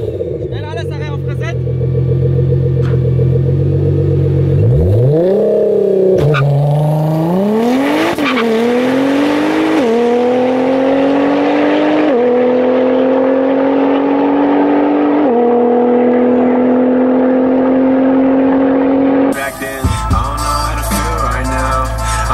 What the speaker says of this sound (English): I'm gonna put a clip in the video of a GTR doing a launch control